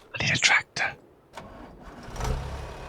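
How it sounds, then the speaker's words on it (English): A tractor engine in the Farming Simulator game cranks and catches, settling into a steady low idle after a few bursts of louder noise at the start. "tractor. I need a tractor."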